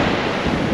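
Wind buffeting a microphone on the beach at Kilnsea on the east coast, a loud, continuous roaring rumble with surf blended in, close and unbroken over a brief span.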